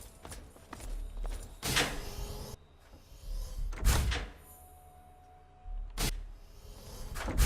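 Doors in the video game Fallout 3, several heavy mechanical opening and closing thuds with sliding, whirring motion between them, spaced a couple of seconds apart and fairly close, without voices.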